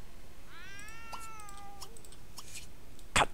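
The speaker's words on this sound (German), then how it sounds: "Ach. Katzengejammer." A cat wails in The Sims Pets video game with a long, rising, drawn-out meow followed by a couple of short, clipped cries. A sharp burst of noise lands near the end, and no one speaks.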